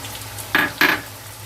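Ginger-garlic paste with onions stirred in a hot pan, two short scraping stirs breaking over a quiet sizzle close by.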